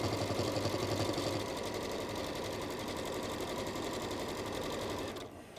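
Close, continuous stitching from a sewing machine running through fabric at a steady rapid pace, a dense mechanical whir that holds for about five seconds before stopping abruptly.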